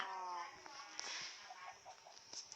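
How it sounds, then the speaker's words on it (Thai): Minecraft chickens cluck and squawk in a busy flock, several short calls scattered over a steady background hum. "ไก่ออกหมดเลย"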